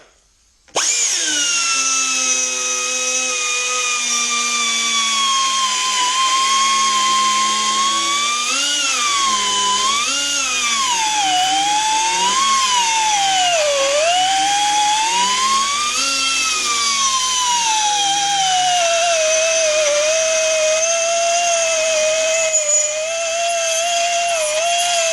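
A high-pitched power tool whines steadily as it cuts lubricated aluminium, its pitch dipping and rising under load, loud and close throughout.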